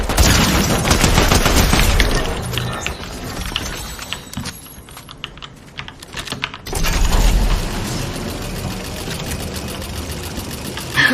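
Rapid bursts of Fortnite gunfire crackle loudly, pause into a quieter stretch, then resume with sustained rattling shots.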